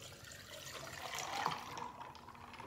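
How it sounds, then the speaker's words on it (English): Water poured into a mason jar holding an iced ginger-lime moonshine drink, a soft steady trickle and splash that swells slightly midway, quiet and alone. "And then we add some water"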